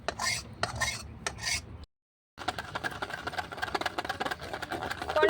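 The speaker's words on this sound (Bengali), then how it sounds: "কনডেন্স মিল্কের সাথে দইটা আমি ভালো করে ফেটিয়ে নিয়েছি।" Curd whisked together with condensed milk for steamed yogurt: close, rhythmic scraping and rubbing strokes in a bowl, broken by a brief pause, then continuing steadily.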